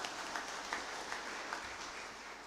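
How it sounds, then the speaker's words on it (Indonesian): Congregation applauding during a Sunday church service, a steady wash of clapping with a few louder accents, moderately distant and even, with no speech over it. "Tepuk tangan untuk Yesus Kristus dong."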